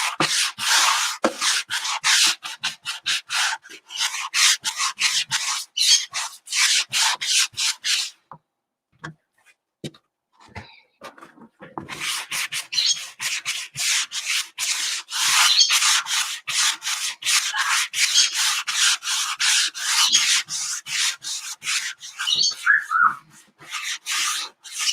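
Rapid back-and-forth strokes of sandpaper on wooden farmhouse decor pieces that were painted with white chalk paint, loud and rhythmic, pausing for a few seconds and then continuing at the same steady pace.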